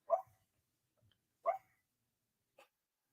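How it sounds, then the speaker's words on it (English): A dog barking nearby indoors, two sharp single barks about a second and a half apart, followed by a fainter short yip, with silence in between. "That's my dog."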